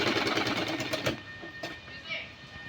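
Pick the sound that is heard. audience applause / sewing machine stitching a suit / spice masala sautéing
sewing machine stitching a suit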